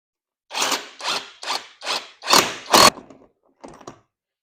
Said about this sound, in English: Very quick, and then very easy to take off this lug bolt.